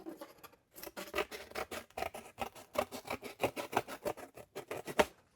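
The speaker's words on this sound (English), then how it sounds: "if I wanted to cut this with scissors" Scissors snipping through material in a rapid series of short, crisp cuts, close up and fairly quiet, with no voices.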